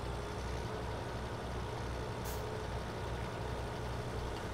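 Tractor engine in Farming Simulator 17, an old T-series model, droning steadily with a low rumble throughout and a brief hiss partway through.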